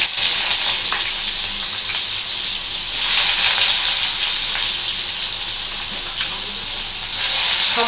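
Chopped onion hits a hot pan of oil for a Bengali jhinge aloo posto, setting off a loud, steady, close sizzle and crackle that surges twice and keeps going without a break, with no voices.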